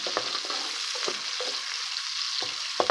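Onions fry in very hot ghee with a steady, bright sizzle, broken by several soft stirring scrapes, close up and with no talking.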